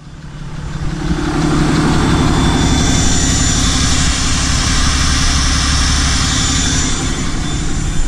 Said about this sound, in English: I hope you guys can hear me over that loud turbo.